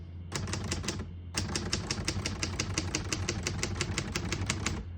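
Rapid, evenly spaced key strikes clack on a 1967 Hermes 3000 portable typewriter, close and loud, with a brief pause after the first burst before a long steady run of typing.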